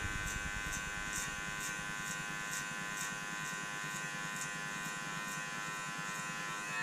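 Electric hair clipper fitted with a 1/8 guard, cutting hair in a barbershop: a steady close buzzing hum with a faint rhythmic pulse as it passes over the head, with no talk.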